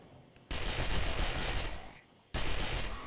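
Gunfire in the zombie survival game 7 Days To Die, two loud bursts of rapid shots, the first about a second and a half long, then a brief lull before the second.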